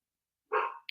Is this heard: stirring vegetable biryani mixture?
no